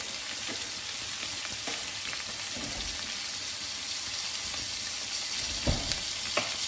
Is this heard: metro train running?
no